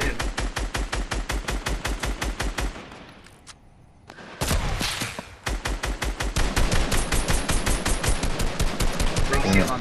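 Rapid automatic gunfire in the video game Fortnite: loud, evenly spaced bursts, a brief lull with a few isolated shots, then sustained fast volleys resuming and continuing to the end.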